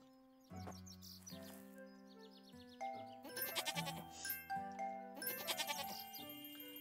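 Goat bleats from the video game Harvest Island, several short wavering cries in quick succession near the middle, set over steady melodic game music and sound effects with no voices.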